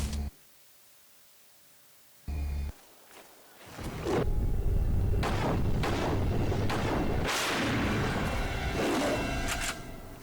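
Shotgun blasts in the 2011 hunting game Dangerous Hunts: two sharp early reports, then from about four seconds a loud, dense stretch of booming gunfire and in-game action that continues steadily to the end.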